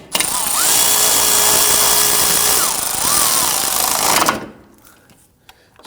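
A power tool whines loudly and steadily for several seconds, its pitch wavering as it drives bolts into a rear suspension knuckle of a 2005-2010 Chrysler 300, then cuts off, leaving quiet clicks and handling sounds.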